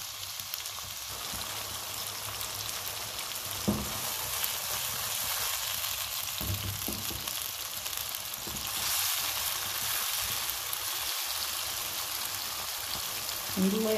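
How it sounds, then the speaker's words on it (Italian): Cherry tomatoes sizzle in a pan over a high flame, a steady, even crackle and hiss that runs throughout at moderate loudness, with a few soft clicks of stirring. "A fiamma alta lasciamo appassire i pomodorini per 2-3 minuti."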